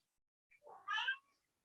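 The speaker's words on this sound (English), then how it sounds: "if you hear my cat Princess meowing in the background" A house cat gives a single short meow, quiet and somewhat distant, rising then falling over about half a second in an otherwise silent room.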